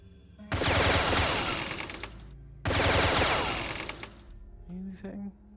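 Two long, dense bursts of minigun fire from the XCOM video game rattle loudly, each lasting about two seconds, followed by brief clattering effects and a short voice.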